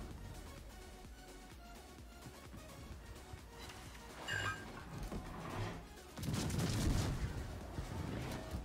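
Naval gunfire from World of Warships, with cruiser guns firing HE shells in a sea battle, arriving as muffled booms and crashes under a steady game background that swells louder in the final seconds.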